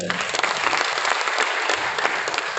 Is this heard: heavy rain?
no